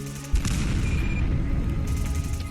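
Gunners firing in a heavily modded Fallout 4 survival game: after a short quiet start, a sudden heavy boom gives way to a dense, continuous rumble of gunfire and blasts that stays loud to the end, with no talking.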